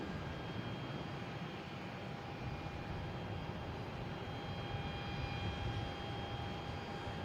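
A jet airliner takes off at Boston Logan International Airport, heard as a steady, broad engine roar with a faint high whine, constant and moderately distant from start to finish.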